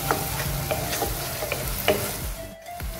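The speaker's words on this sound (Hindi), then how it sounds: "हाफ टी स्पून लहसुन अदरक का पेस्ट डालेंगे।" Onion with ginger-garlic paste frying and being stirred in a pan, a steady close sizzle with light scraping strokes throughout, briefly dipping near the end.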